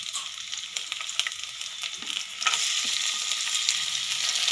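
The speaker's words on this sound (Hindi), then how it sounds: "अब हम इसमें हरी मिर्ची और टमाटर डालेंगे।" Green chillies and tomatoes frying in a pan for jeera gobhi fried rice, a steady broadband sizzle with scattered crackles and occasional stirring scrapes that grows noticeably louder and denser about halfway through as the vegetables hit the hot oil.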